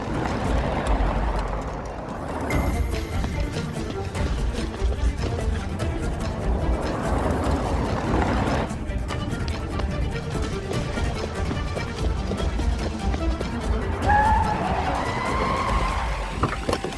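A car in an action film scene skids and drives off on a forest road, a continuous rumbling engine roar with gritty tire noise that swells and fades over time, with a faint squeal near the end.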